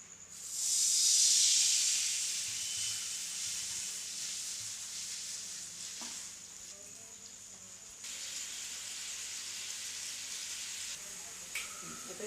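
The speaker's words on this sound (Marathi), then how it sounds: "आता ह्या पाण्याला आपली उकळी आलेली आहे" Water comes to a boil in a pan for sweet vermicelli sheera, giving a steady hiss with a brief louder steamy burst at the start, then an even bubbling that runs on alone.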